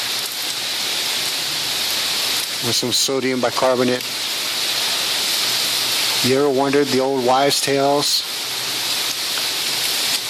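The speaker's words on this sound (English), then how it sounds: "I don't want to get stuck in this rain" Steady hiss of rain falling outdoors forms a constant background while someone talks over it in two stretches.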